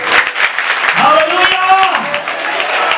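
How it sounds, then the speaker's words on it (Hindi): Church congregation at a Christian service in Jalandhar clapping together in praise, a brief dense round of applause under someone speaking and sustained voices. "ताली मारकर प्रभु की महिमा करेंगे।"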